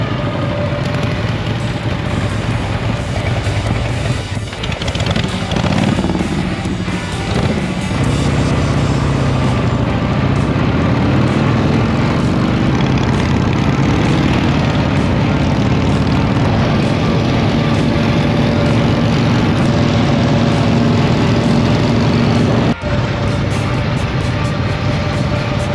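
Two 1950s Harley-Davidson Panhead motorcycles ride the Pacific Coast Highway, a steady loud engine roar with wind rush that swells briefly early on and then holds constant throughout.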